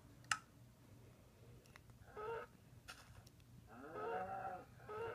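Cow mooing in Minecraft Pocket Edition, a few short low game moos arriving between soft clicks, with one sharp click near the start, heard alone over a quiet background.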